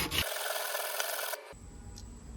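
A three-blade Woodsman broadhead scraped hard across a coarse grit sharpening stone gives a continuous gritty rasp for over a second, then cuts off to near quiet.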